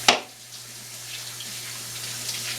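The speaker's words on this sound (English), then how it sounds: "I just wanted to rinse my hands there." Hands being rinsed under a running kitchen tap while baking chocolate cupcakes, a brief splash at the start followed by a soft, steady flow of water, close and without talk.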